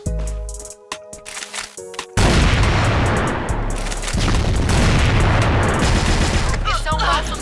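Grenade explosion in the online shooter CrossFire: after a couple of seconds of short beeping, tonal game sounds, a loud, sudden blast hits and gives way to a long, dense roar of gunfire and rumbling, with voices faintly mixed in.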